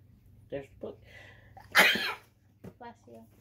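A single sharp, loud sneeze bursts out amid soft talking voices in a room, with brief voiced sounds before and after it.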